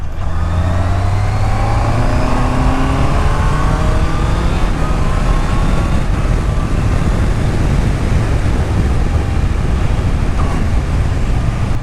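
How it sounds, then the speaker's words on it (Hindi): A loud inline-four engine on a 2026 Honda CBR650R motorcycle roars and revs continuously, its pitch rising and falling as it accelerates, close and steady with no voices. "इनलाइन 4 इंजन साउंड का थोड़ा मज़े लो"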